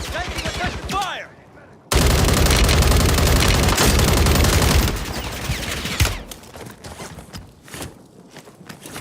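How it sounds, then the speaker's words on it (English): Rapid automatic gunfire bursts loudly in the Warzone video game, a dense continuous volley in the middle, with scattered shots and rustling movement before and after. "Taking effective fire."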